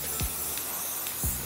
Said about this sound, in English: So I can spray paint safely.